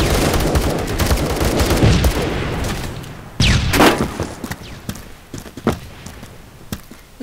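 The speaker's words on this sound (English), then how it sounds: "Grenades everywhere." Gunfire and grenade blasts in the Roblox shooter Phantom Forces: a dense rattle of rapid shots, then sharp explosive bursts and scattered single reports, loud and close.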